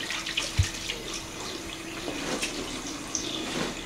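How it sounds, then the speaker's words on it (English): A school tap runs steadily while children's hands are washed beneath it, with light splashing and occasional clinks, close by. "When you're finished on the toilet, you will come and wash your hands."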